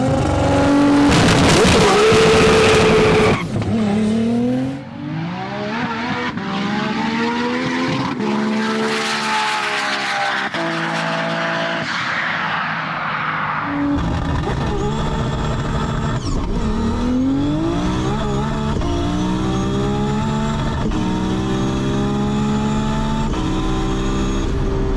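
Manual Nissan GT-R drag racing on an airport strip running nitrous and drag radials, with loud roaring engine revs climbing through gear shifts in repeated rising sweeps, a sharp launch burst, and sustained high-pitched acceleration.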